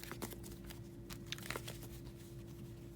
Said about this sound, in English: we're going to go ahead and shuffle